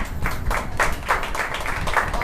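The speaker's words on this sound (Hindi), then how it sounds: "जोरदार ताली की आवाज" A congregation at a Sunday worship service claps together in steady, rhythmic bursts, a full, fairly loud sound that fills the hall with no clear talk over it.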